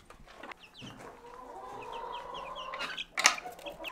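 Farm chickens and young chicks cluck and cheep in a coop, with soft repeated high peeps and a longer drawn-out hen call, ending in a louder burst of squawking.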